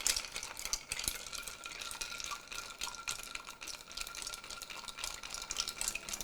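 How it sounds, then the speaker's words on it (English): A drink being stirred at home, a soft continuous swirl of liquid with faint spoon taps against the glass, close and steady, with no voices. "Give it a nice stir"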